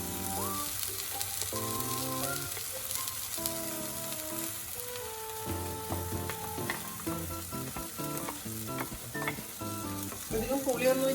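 Tomato masala for a fish head curry fries in a pan with a steady, close sizzle and occasional stirring scrapes, with background music playing throughout.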